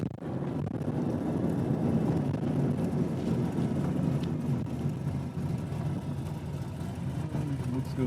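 A cammed Chevy 350 V8 swapped into a 1987 Pontiac Firebird, heard as a loud, steady, close engine drone that holds for several seconds with no talking.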